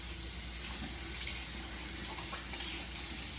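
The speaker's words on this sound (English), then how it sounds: "I'm gonna wash my hands and pray." Hands are washed under a running kitchen tap, water pouring steadily and close with a soft splashing hiss for a few seconds, no voices.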